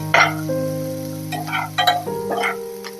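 Chopped onion and dried red chillies fry in a pan for a village-style dish, with a steady close sizzle and a few sharper crackling bursts, heard without any talk.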